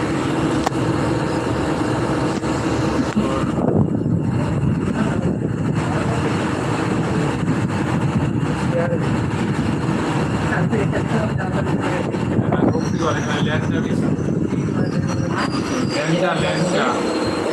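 Continuous rumble and rattle of a moving train heard from inside the carriage, with occasional squeals and faint background voices.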